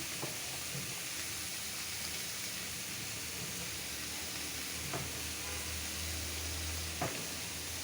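Cabbage sizzling in a frying pan with singi fish, a steady soft hiss of frying with a few faint clinks, no voices.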